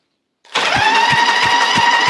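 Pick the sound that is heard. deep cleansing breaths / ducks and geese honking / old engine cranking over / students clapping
old engine cranking over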